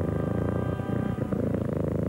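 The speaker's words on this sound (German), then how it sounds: "Bringt ihren kleinen Tiger zum Schnurren." A cat purrs in a Whiskas cat food TV commercial, a close, steady rhythmic rumble that runs continuously without pause and without any talking over it.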